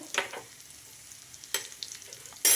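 Mutton spleen fries in oil and is stirred, with a few soft spoon scrapes over a faint, quiet sizzle.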